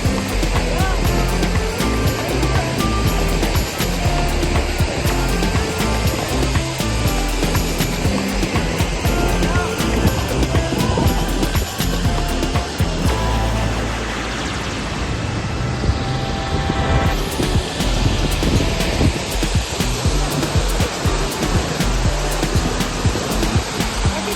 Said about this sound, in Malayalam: ഇത് വെള്ളച്ചാട്ടത്തിൻ്റെ അടിഭാഗം കേട്ടാണ്